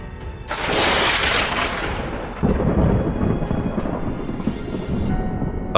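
Thunder from an approaching storm booms and rumbles loudly, one heavy crack followed by long rolling reverberation, with a second burst midway and no talk.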